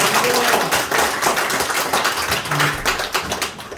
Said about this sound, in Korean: 박수 소리 들어보니 별로 반가운 것 같아요